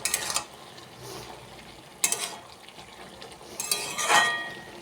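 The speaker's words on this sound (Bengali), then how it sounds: "এইভাবে পালং শাকটা রান্না করবে, আর বেশি কষাবে না।" Spinach curry with potato and eggplant simmers in a pan, a low, quiet sizzle broken by three bursts of scraping and stirring, the last one longer and louder.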